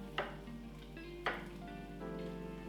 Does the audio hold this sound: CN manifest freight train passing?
no